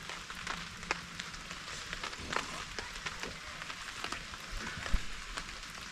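Rain patters on a tent tarp at a camp, a steady soft hiss broken by scattered nearby drip taps, quiet and continuous with no talk.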